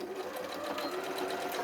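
Sewing machine running steadily while stitching fabric for a jelly roll quilt bag, a continuous close hum and rapid needle clatter with no pauses.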